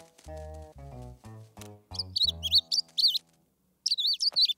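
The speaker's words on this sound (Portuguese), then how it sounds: "Tenho que tomar conta do passarinho bebê." A cartoon baby bird chirps in quick high, warbling tweets, heard in two short bursts after a run of tonal, honking animal-like sounds, close and clear with no speech.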